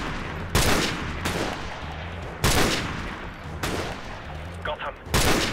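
M21 rifle shots in Call of Duty: Modern Warfare Remastered: four loud, sharp cracks spaced about a second apart, each with a short echoing tail, over a low background hum.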